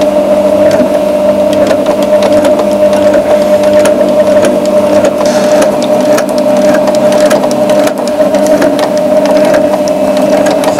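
A SUISEI S955 KM sewing machine stitches continuously with a gathering presser foot, a steady close mechanical hum with a fine rapid rattle running unbroken throughout.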